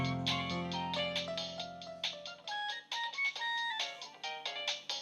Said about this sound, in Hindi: आलिया का फोन है